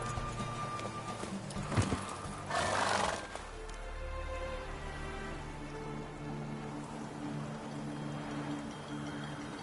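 A horse gallops during a race in The Witcher video game, its hooves clip-clopping under a steady rain-like hiss, with a short whinny and a louder burst of movement in the first few seconds.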